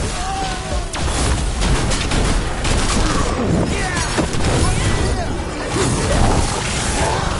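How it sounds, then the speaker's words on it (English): Mortar fire and explosions crash through a video game battle with alien forces, a dense, continuous barrage of booms, whooshes and debris at close range with shouted voices mixed in. "They've got mortars!"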